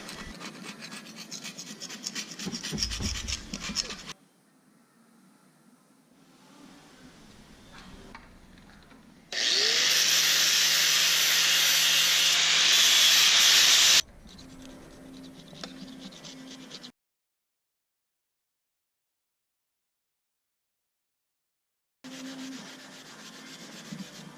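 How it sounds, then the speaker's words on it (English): Hand scraping and sanding of an oxidized, white-crusted MerCruiser boat outdrive. Rough scratching strokes come in bursts, then a loud, sustained stretch of harsh abrasive rasping, then softer scraping and a silent gap before the work resumes. "what we're going to do is scrape all that off, get this cleaned up as best we can"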